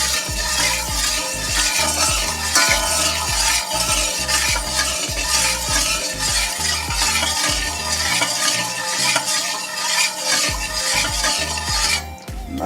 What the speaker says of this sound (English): You beat and mix.